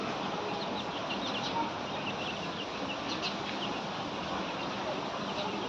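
Chickens kept on a rooftop, clucking faintly while they peck at feed, set against steady broadband noise.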